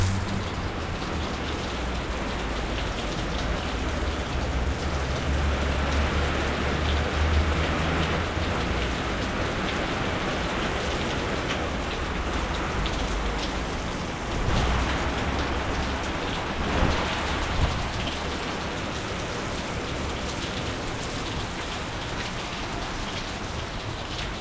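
Steady rain falls outside a kitchen, a dense continuous patter of drops on surfaces that stays loud and even throughout, with a few slightly heavier bursts and no talking.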